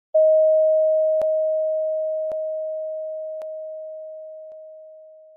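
Sonified gravitational-wave ringdown of a newborn black hole, rendered as a single steady pure tone that slowly fades, broken by a few evenly spaced faint clicks.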